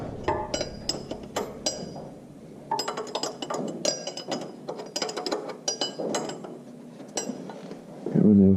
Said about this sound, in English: see if we can get these 4 nuts undone